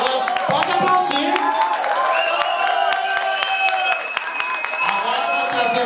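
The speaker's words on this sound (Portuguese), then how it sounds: "Agora pode aplaudir." An audience applauds in a dance club, with dense, steady clapping and crowd noise filling the room for several seconds, while a voice talks over it.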